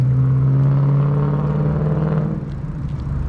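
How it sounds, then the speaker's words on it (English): A loud, droning car engine with a strong low hum rumbles close by and then fades slightly as it passes a road in Las Cruces, New Mexico, with no voices. "Always loud cars down here"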